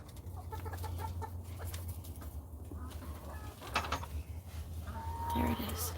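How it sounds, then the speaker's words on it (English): Chicken clucking in a garden, with brief soft clucks and bird calls under steady outdoor background noise and low hum, some sounding near and others farther off. "I'm gonna see if I can find this chicken."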